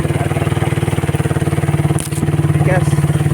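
A Raider 150 motorcycle engine runs steadily on a farm path, a loud, close, even throbbing hum with a brief dip and clatter midway.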